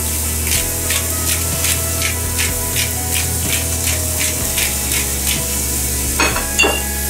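Garlic and cracked pepper sizzle in a hot pan with a sauce, a constant bright fry broken by regular scraping pulses of stirring roughly every half second, ending in a few louder clatters.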